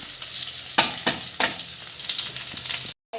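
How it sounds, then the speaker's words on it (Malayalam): Okra (ladies finger) sautés with curry leaves, garlic and green chili in a hot pan, a close, steady sizzle with several sharp scraping stirs, ending in a brief cut to silence. "നന്നായി വഴറ്റി കൊടുക്കുക"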